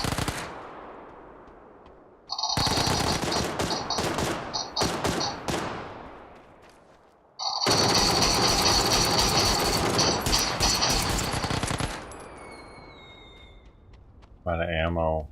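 Rapid automatic gunfire in PUBG, loud sustained bursts broken by short gaps, with a chattering rattle up close and a voice talking over it.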